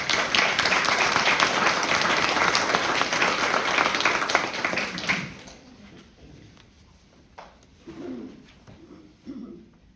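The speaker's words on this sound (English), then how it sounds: "would you give them a round of applause?" Loud, dense clapping from a crowd fills the first half, then cuts off, leaving faint room noise and a few soft sounds.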